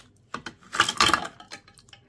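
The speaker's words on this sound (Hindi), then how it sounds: "अब हम इसके अंदर ऐड कर रहे हैं बर्फ" Ice cubes dropping into an apple sharbat drink, a close cluster of clinks and clattering knocks against the container with a louder burst in the middle, followed by a few lighter ticks as the cubes settle.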